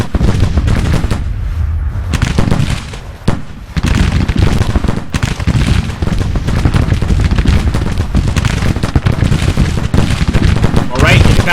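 Dense, continuous musket volleys and booming artillery rumble through a Civil War battle at a plantation in Grand Tactician, loud and overlapping for the whole stretch, with a voice talking underneath.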